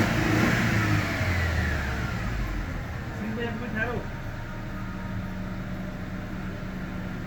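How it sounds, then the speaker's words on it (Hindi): A Mercedes W211 E200 engine revved while being checked for a misfire, starting with a louder rising rev that settles back to a steadier running drone, with someone talking over it. "रेस वगैरह दे के चेक करते हैं।"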